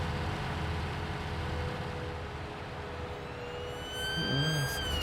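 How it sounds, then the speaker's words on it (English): Police car siren in Farming Simulator 19, a rising wail that sweeps upward near the end over a steady vehicle engine rumble, moderately loud and with no talk. "Screaming police car on top."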